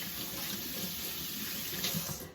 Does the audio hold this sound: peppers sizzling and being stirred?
no